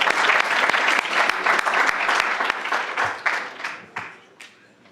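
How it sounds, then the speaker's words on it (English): An audience at a university cleantech pitch competition applauds, dense rapid clapping that holds steady and then thins out and fades over the last second or two. "please a big round of applause"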